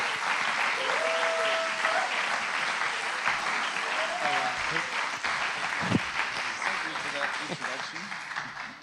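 An audience at an evening YWAM church gathering in Paris applauds a guest speaker, with sustained, dense clapping throughout, a few short whistle-like tones and cheers rising above it.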